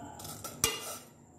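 Vermicelli being dry-roasted in a pan over medium heat, with a spoon scraping and stirring it, for handmade seviyan. Light clinks and a rustling scrape, with one sharper knock midway, heard up close with no talk.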